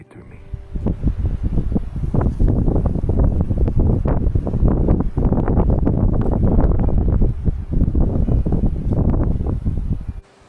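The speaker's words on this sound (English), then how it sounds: "the wind's cutting right through me" Strong, cold wind buffets the microphone outdoors at dusk on public hunting land, a loud, continuous gusting rumble that swells and pulses for about ten seconds before dropping off abruptly.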